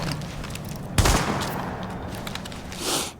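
Gunfire from the video game The Division fired with a strike pack mod, a loud sharp burst near the start followed by a dense rattle of shots and game effects over a few seconds.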